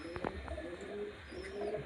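Pigeons in a small cage give soft, low cooing calls, faint and close, under light background noise.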